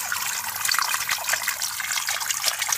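Cold, clean spring water coming down from the hills trickles and splashes close by, a lively, bubbling flow with small uneven surges and no talking.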